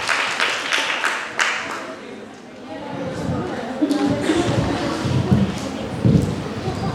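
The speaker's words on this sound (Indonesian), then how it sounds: "Tepuk tangan dong buat teman kita." Scattered applause for a participant at a question-and-answer session, a few sharp claps early that thin out, followed by indistinct voices, shuffling and thuds in the room.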